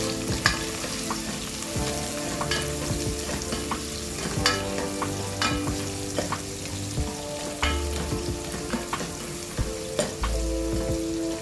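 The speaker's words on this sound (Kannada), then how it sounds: "ಎಣ್ಣೆ ಬಿಸಿ ಆಗುವಾಗ ಒಂದು ದೊಡ್ಡ ಹೆಚ್ಚಿಟ್ಟ ಈರುಳ್ಳಿ ಹಾಕಿ ಅದು ಗೋಲ್ಡನ್ ಬ್ರೌನ್ ಆಗುವವರೆಗೆ ಫ್ರೈ ಮಾಡುವ." Chopped onion frying in hot coconut oil for Mangalore-style chicken sukka, a dense steady sizzle filling the whole stretch with frequent close spatula scrapes and clicks, fairly loud and continuous, with no talking.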